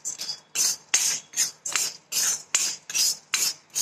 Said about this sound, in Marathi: आता हे काय डाळ भाजायली मी, डाळ चांगली भाजून घेते।